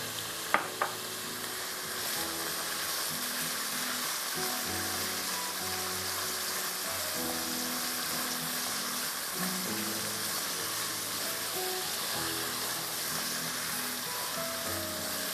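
Chopped onion fries in a pan for restaurant-style ginger chicken, a loud, even sizzle that runs unbroken throughout, with a couple of faint clinks near the start.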